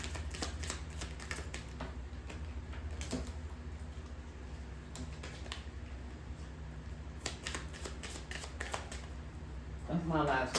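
Tarot cards are shuffled in quick, repeated riffling bursts with crisp clicks, close and fairly quiet, over a low steady background hum.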